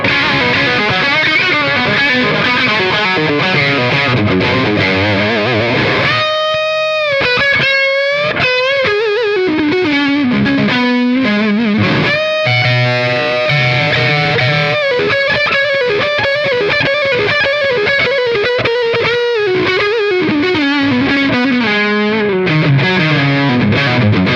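Distorted electric guitar through a Tone X amp modeler, playing chords and single-note lines with a gritty amp tone, loud and continuous with no voices.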